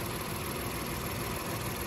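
A 2019 Honda Ridgeline RTL-T engine idles steadily, giving a constant low hum with a faint background hiss and no voices.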